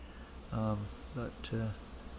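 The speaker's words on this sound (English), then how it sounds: "I brought the volume up here so you can really hear the bee sound" Bees buzz around knotweed flowers outdoors, three distinct close passes of droning buzz that rise and fade over a faint background hiss.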